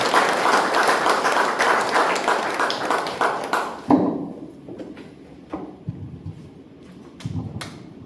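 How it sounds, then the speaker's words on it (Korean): Audience applause at a book launch ceremony as the author is called up, a full, even round of clapping from a seated crowd for about four seconds that stops abruptly, leaving scattered footsteps and small knocks in a quiet room. "큰 박수로 모시겠습니다"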